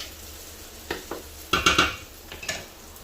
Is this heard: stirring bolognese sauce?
yes